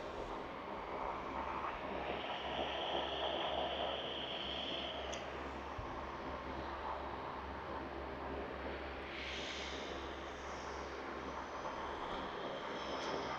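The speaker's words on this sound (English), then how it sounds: "Another aircraft's coming up behind me. It's a Virgin 737." A Virgin Boeing 737 airliner at Canberra Airport produces a steady, distant engine roar, with a low rumble and a soft whine that rises and falls over the whole stretch. The sound is faint and continuous, and no one is talking.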